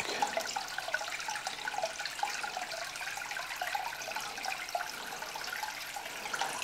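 Conditioned water poured into an aquarium tank, a steady close splashing rush of water that continues evenly throughout without talk.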